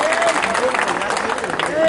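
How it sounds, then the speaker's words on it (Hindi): A crowd at a political campaign gathering claps and applauds to welcome a minister, dense continuous clapping throughout, loud and close, with voices mixed in. "जोरदार ताली"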